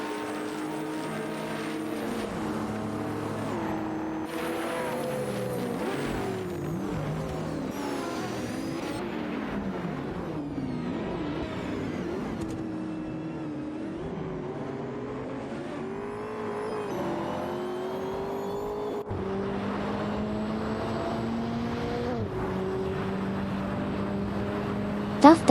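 Racing engines in a video game, a Ferrari and Chevrolet Corvette ZR1s, whining and shifting pitch continuously as the cars accelerate and downshift, with a commentator talking throughout.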